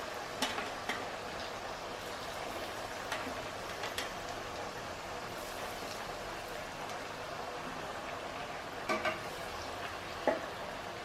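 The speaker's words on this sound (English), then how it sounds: "Now fry it in a low flame." Masala vada made from chana dal fry in a pan of oil over a low flame, giving a steady soft sizzle with faint crackles and a few sharp pops, moderately quiet and without talk.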